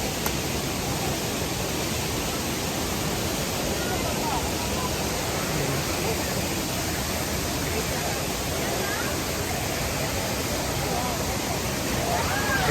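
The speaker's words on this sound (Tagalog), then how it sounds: "Ganda ng falls." Aurora Falls, a waterfall in Dingalan, roars as a steady, dense wash of falling water that fills the whole clip at close range, unbroken from start to finish.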